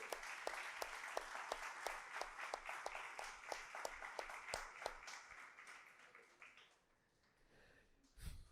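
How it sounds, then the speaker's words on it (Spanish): Church congregation claps loudly and steadily in praise for several seconds, with sharp individual claps cutting through the dense applause before it fades into near silence, then a brief burst returns at the end. "Dele palmas a Dios, por favor, apláudele fuerte."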